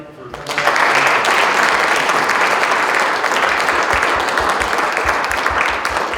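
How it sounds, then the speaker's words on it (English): An audience at a county chamber of commerce legislative breakfast claps for scout troops, with dense, loud, steady applause swelling in after a brief quiet start and holding strong to the end. "let's give a big clap and a big thank you to our troops this morning for coming out"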